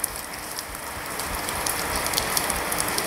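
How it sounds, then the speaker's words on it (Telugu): Heavy rain pours down in Gokarna as a dense, steady roar of drops pounding surfaces, loud and continuous, with no voices. "ఇంత హెవీ వర్షం"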